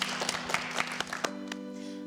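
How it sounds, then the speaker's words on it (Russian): Audience at a Yakutsk discussion event on higher education gives scattered, sparse applause, a handful of distinct claps that die away into a steady electrical hum. "Аплодисменты."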